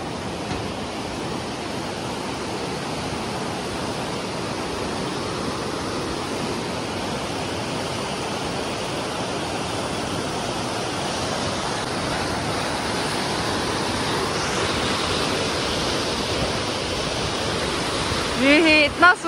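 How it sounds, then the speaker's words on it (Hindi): Loud, steady rushing of a large river or waterfall near a viewpoint in Dirang, Arunachal Pradesh, a dense broadband roar filling the whole stretch without pause, with a couple of brief handling knocks at the very end. "शायद आप लोगों को सुनाई नहीं देगा क्योंकि पानी काफी बड़ा है।"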